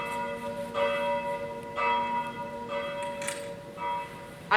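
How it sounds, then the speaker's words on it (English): A church bell tolls four times at slow, even intervals during a stage production of Macbeth. Each ringing strike decays into a long hum, fairly loud and with no voices. "The bell invites me."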